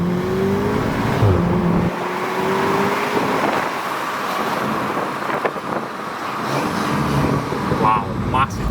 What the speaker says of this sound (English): Just from an intake, that noise.